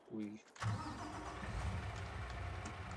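A vintage truck engine cranks briefly and catches, then settles into a rough, rumbling idle close by, with a voice heard over the start.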